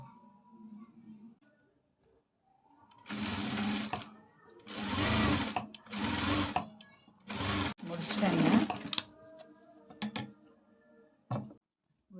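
Sewing machine stitching the lining onto a puff sleeve, running in several separate bursts of a few seconds each with pauses between, close and clear, with someone talking quietly in between.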